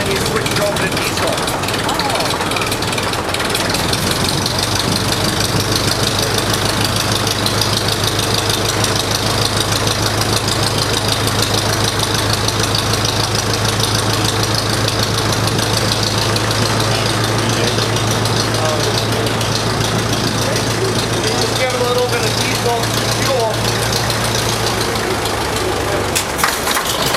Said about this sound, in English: Starts with the gas engine, then you'll let it kind of smooth out a little bit and warm up a little bit,